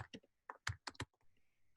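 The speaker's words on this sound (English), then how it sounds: "while you're typing" Someone types on a computer keyboard during a software demo: a quick run of sharp, close key clicks in short bursts with pauses between, with no voice over them.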